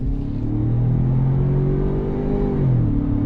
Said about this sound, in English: But let's go on throttle. On throttle, here we go.